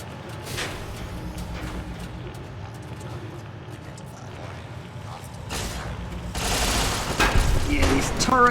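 Automated turrets in Fallout: New Vegas fire in bursts of rapid gunshots, building to a loud, dense volley near the end, with a voice talking over parts of it.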